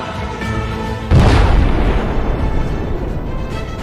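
A Cygnus-carrying rocket explodes at low altitude just after launch: a sudden loud boom hits after a moment of background rumble, then decays into a long, rolling roar.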